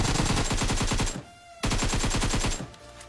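Automatic gunfire rattles in the video game PUBG as rapid, loud bursts of evenly spaced shots, one long burst, a brief pause, then a second burst.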